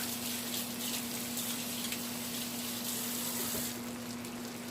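Lobster tails rinsed under a running kitchen tap, a steady faint stream of water with a low hum beneath, continuous and without speech.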